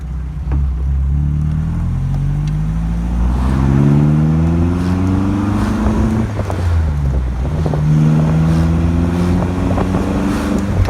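Exhaust of a 1956 Austin Healey BN2 with a four-speed transmission, a loud, deep burbling note that rises and falls as the engine revs through gears, with wind rushing over the microphone throughout.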